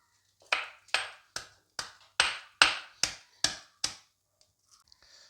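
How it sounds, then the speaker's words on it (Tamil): Small onions being pounded in a stone mortar, nine sharp, evenly spaced thuds in quick succession, close and crisp, then a few faint taps, with no talk. "150 கிராம் சின்ன வெங்காயத்தை நம்ம உரலில் போட்டு இடித்து எடுத்துக்கலாம்"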